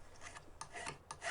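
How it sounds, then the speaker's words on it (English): A metal file rasps back and forth along the edges of a thin strip of silver sheet, smoothing away saw marks, making three or four quiet, steady scraping strokes close up with no talk. "And I'm filing the sides so that there's no saw marks."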